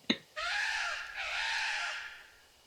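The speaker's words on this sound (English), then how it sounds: "Why is there a bird sound like that out of nowhere?" A crow cawing in the horror game Spirit Hunter: Death Mark: a sharp click, then two long, loud, harsh caws that sound close and fill the quiet scene, fading at the end.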